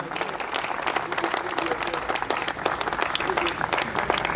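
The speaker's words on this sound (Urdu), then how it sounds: "میں چاہوں گا کہ ایک دفعہ زوردار تالیاں بجائیں گے ہم" A conference audience at a Jamaat-e-Islami Karachi Minority Day event applauds loudly and steadily, a dense wash of many hands clapping for several seconds without letting up.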